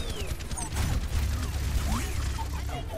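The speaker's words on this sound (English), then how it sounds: "I'm getting shot by 3 or 4 people" Overwatch video game gunfire: dense, continuous shooting and mechanical weapon sounds with ricochet-like whines, loud and unbroken throughout, under steady game noise.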